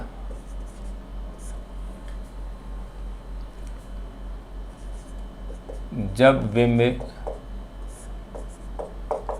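Chalk or marker writing on a board during a Hindi physics lesson, heard as a short burst of scratchy strokes in the middle, with a steady low hum throughout and a teacher speaking.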